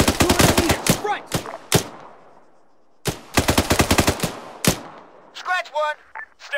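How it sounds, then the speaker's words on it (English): Bursts of automatic machine gun fire in the Arma 3 military shooter, rapid close rounds in two long strings with a pause between, followed by a few scattered shots and faint distant pops. "Machine gun at 200 meters front."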